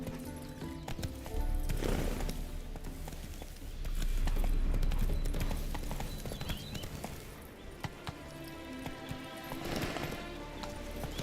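Galloping horse hooves in Witcher 3, a continuous clip-clop rhythm with a whinny and rushing movement sounds layered in game audio, steady and fairly loud throughout.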